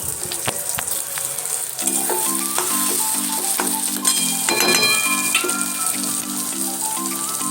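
Dried fish (shutki) frying in oil gives a bright sizzle while it is stirred, with scattered clinks and scraping against the pan over a faint repeating tonal hum; no one speaks.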